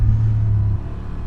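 Honda Transalp 750 motorcycle engine at full throttle, a loud steady low rumble that holds strong for most of a second before easing slightly, with no talking.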